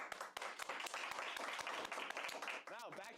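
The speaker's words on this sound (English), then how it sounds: "Let's get a round of applause for Beck." Applause for Beck, a varsity lacrosse player, at a Lakota East Thunderhawks versus Sycamore Aves event, scattered sharp claps under ongoing talk, with a voice rising and falling near the end.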